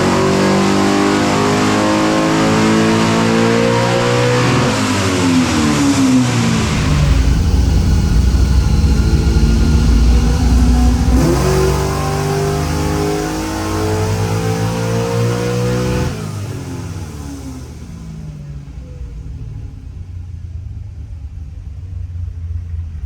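A naturally aspirated big block V8 in a 1969 Camaro revs hard and loud in repeated climbing pulls, dropping back between runs before the rumble fades toward the end, with no voices.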